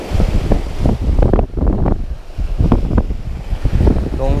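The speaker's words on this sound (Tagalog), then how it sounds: "baka naman po tayo makakachamba pa rin kahit karni ang hangin" Strong gusty wind at the shore buffets the microphone in loud low rumbles while fishing, with a faint wash of surf underneath.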